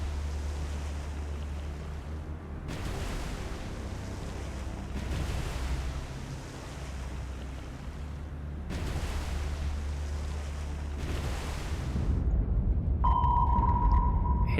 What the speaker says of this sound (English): Ooh, it's quite intense depth charging, isn't it?